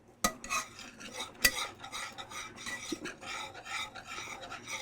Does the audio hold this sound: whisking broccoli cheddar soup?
yes